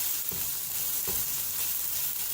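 Onions with salt fry and get stirred in a pan, giving a continuous bright sizzle broken by a couple of soft scraping stir strokes.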